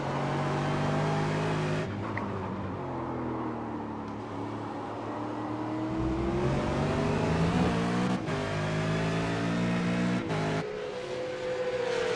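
A race car at Road Atlanta heard from onboard, its engine droning loud and close as revs climb through the gears, with brief drops at each shift and a steady roar between.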